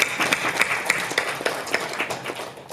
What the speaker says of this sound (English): Can we continue now to give a round of applause for this 5 years?